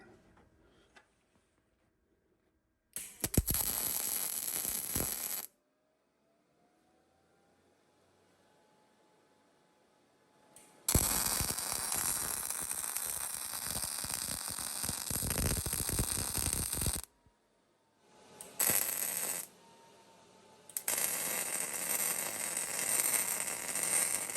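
Welding a steel chop saw stand, several bursts of loud, harsh broadband crackle lasting a few seconds each, separated by near-silent pauses with a faint hum.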